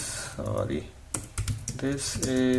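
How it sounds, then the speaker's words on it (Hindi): Quick, light clacking of keys on a new Logitech K380 wireless keyboard, typed in short bursts close to the microphone while someone talks over it. "An example typing from my new Logitech keyboard."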